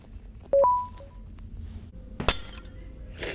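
Yellow glass smashing in Garden of Banban, a sharp crash with brief tinkling shards near the end, preceded by electronic beeps and tones in a quiet game setting.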